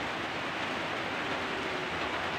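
Rain falling during a storm, a dense continuous hiss of heavy rainfall on surfaces, steady and fairly loud with no voices.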